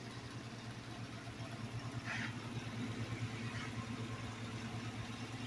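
A 2015 Chevrolet Camaro SS V8 idles steadily and smoothly, a low even rumble with no revving, close by and alone.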